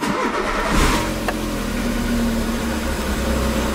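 A car engine with an unstable, uneven idle runs loudly up close, its note wavering and surging slightly in a steady drone.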